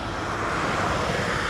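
An ATR turboprop airliner departing Dublin Airport for Edinburgh gives off a steady, broad engine roar with no voices over it.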